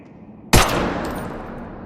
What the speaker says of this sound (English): shoot the container's highlighted edge and watch as your bullet rebounds towards the target